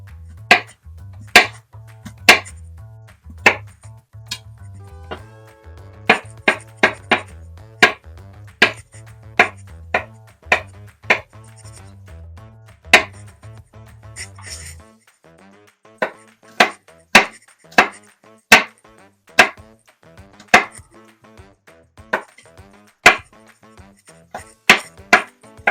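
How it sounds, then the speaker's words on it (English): A knife chops garlic on a cutting board, sounding as a long run of crisp, evenly spaced taps that come in quick clusters and continue throughout, with a low hum underneath for the first half. "I'm just gonna cut our garlic."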